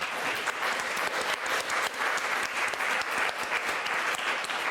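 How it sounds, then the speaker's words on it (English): Conference audience applauding steadily, a dense, even wash of many hands clapping close by with no talk over it. "So I would like to give a round of applause"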